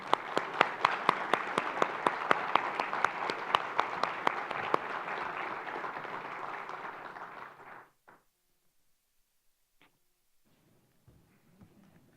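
Sustained applause from a conference crowd welcoming the Premier of the Cayman Islands, steady and full for several seconds before stopping abruptly, followed by near silence with a few faint rustles.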